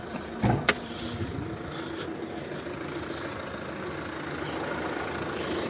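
A 2012 Fiat Freemont's 2.0 Multijet 170 hp diesel engine idles steadily with a low, even rumble, preceded by a couple of brief knocks or clicks near the start.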